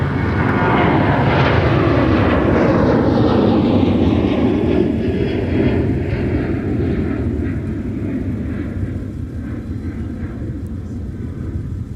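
Airliner departing Minneapolis airport, a loud roaring jet rumble that swells and then slowly fades as it climbs away, heard alone without voices.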